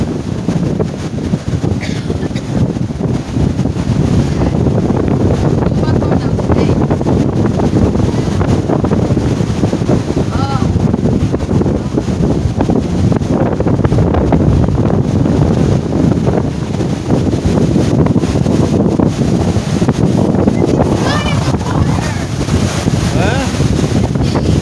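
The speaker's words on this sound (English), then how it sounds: "I've never seen it so windy." Strong wind roars across the microphone on the beach at Lauderdale-By-The-Sea, a loud continuous rumbling blast with gusting surges throughout, likely mixed with surf, and voices occasionally faint beneath it.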